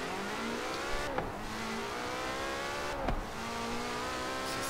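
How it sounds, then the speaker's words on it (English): A Koenigsegg CCS supercar in the video game Forza Horizon 4 roars along at speed, a continuous loud engine drone with two sharp gear-change dips and rising pitch sweeps, no talk. "Now, this is a fast car, the CCX,"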